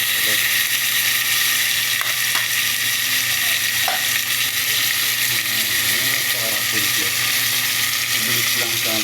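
Chicken pieces for tinola sizzling in a hot pan, a steady loud frying hiss throughout with a few stirring clinks and no talk.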